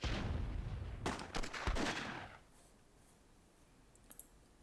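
Gunfire in the strategy game Myth II: Soulblighter, a cluster of sharp cracking shots in quick succession over a rumbling low background, then quieter with a single faint click-like pop later.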